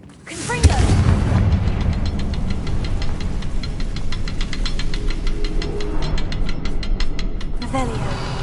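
A Confringo spell blast in Hogwarts Legacy bursts loudly after a brief voice, then gives way to a long run of dense crackling and rapid mechanical ticking that holds steady to the end.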